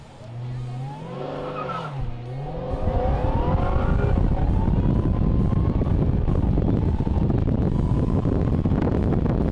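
A Dodge Charger Hellcat Redeye and a '57 Chevy, with one car spinning out: rising engine revs at first, then a loud, sustained roar of wheelspin and tire noise that continues to the end.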